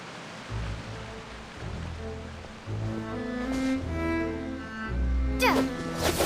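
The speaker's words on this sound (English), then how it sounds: "Oh, it's raining." Steady rain hisses in Genshin Impact, a soft continuous wash beneath gentle melodic tones, with no voices over it.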